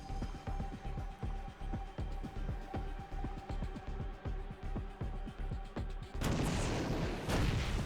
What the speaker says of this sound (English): Siege tanks exploding everything.